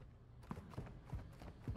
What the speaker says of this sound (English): Your footsteps above me, like, are so loud.